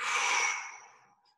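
A long, close exhale during a Pilates exercise, loud at first and then tapering off over about a second and a half.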